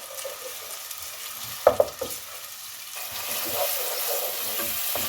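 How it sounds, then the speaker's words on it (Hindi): Chopped onions fry in hot oil in a pot, a steady sizzle that grows a little denser partway through, with a few sharp knocks of a spoon against the pot and no speech. "जब ऑयल गर्म हो जाए तो इसमें 2 मीडियम प्याज जिसकी मैंने चॉप में कटिंग की है वो डाल दें और प्याज को फ्राई कर लें।"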